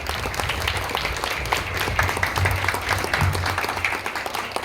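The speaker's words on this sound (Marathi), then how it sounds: "एकदा जोरदार टाळ्या." Audience applause at a temple ceremony, a crowd clapping steadily and fairly loudly throughout, dense overlapping claps with faint voices underneath.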